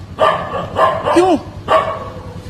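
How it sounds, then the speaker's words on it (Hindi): Several dogs bark in short bursts at close range on a street, with someone speaking briefly among them. "ये कुत्ते उस पर भौंक रहे थे"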